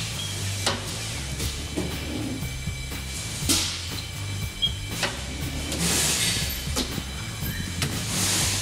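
A tire balancing machine in a tire shop hums and whirs steadily at close range while set to the rim specs, with periodic clicks and mechanical clunks over a low continuous drone.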